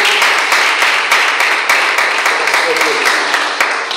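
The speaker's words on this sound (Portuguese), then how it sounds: "Palmas bem alegres para receber o Senhor de Deus" Congregation in a Pentecostal church clapping along steadily and loudly, many hands in a dense continuous rhythm filling the room for the whole stretch.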